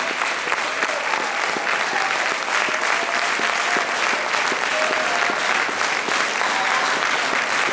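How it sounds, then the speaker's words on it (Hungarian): Steady, dense audience applause for a youth dance ensemble, loud and sustained throughout with many hands clapping at once and no voices standing out. "Tapsot kérünk az ifjaknak!"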